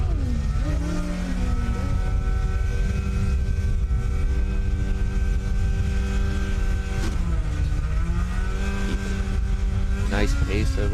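Formula SAE race car on an autocross course at a 2024 competition dynamic day, its engine droning steadily at high revs throughout with pitch shifts as it changes speed, a commentator talking over it.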